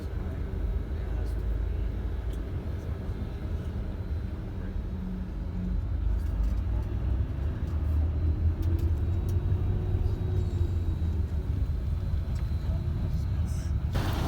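Bus rolling along a road, heard from inside as a continuous low engine rumble and road noise that swells slightly partway through, with voices faintly present.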